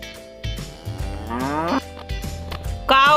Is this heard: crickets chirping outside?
no